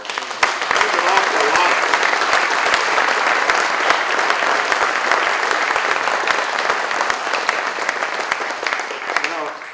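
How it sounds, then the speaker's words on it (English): A crowd at the NHRA Museum gives a big round of applause to honor five veterans, dense steady clapping filling the room loudly and evenly throughout, with no talk over it. "I'd love to give them a great big round of applause"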